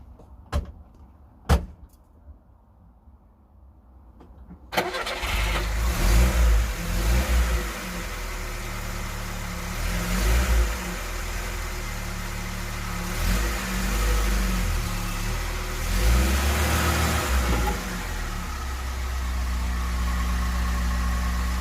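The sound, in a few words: Lada car engine starting and running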